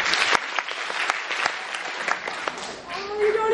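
Steady applause from a crowd, dense clapping throughout with a few sharper claps standing out, and voices murmuring underneath.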